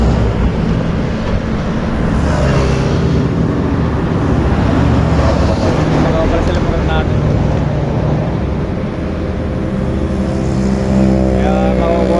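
A motorcycle rides along the road from Manila to Bulacan, its engine and wind roaring loud and constant throughout while someone talks over the noise.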